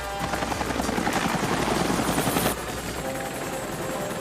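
A helicopter flies in a forest adventure-horror film, its rotor a loud, continuous, dense chop that stays steady throughout with no voices.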